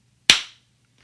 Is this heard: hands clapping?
yes